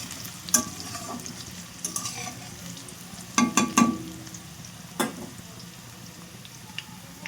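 Spices including panch phoron fry with vegetables in a pan, a soft steady sizzle broken by several sharp stirring scrapes and clinks of a spatula, close by with no talking.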